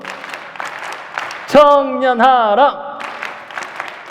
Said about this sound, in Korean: 대한민국 하면 이런 박수 한번 쳐주는 겁니다